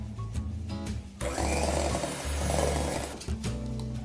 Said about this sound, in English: Now grab your handheld mixer and you want to whisk until your mixture looks pale yellow.